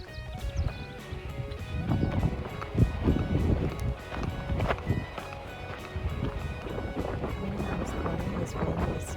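Strong wind buffets the microphone in Torres del Paine, Patagonia, as a steady low roar with gusty rumbles. The roar continues through the whole stretch.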